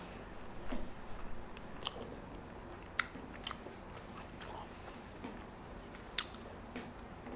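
Chewing biscuits and gravy with fried chicken, heard close and quiet, with soft squishy mastication and a few sharper crunchy bites spaced irregularly.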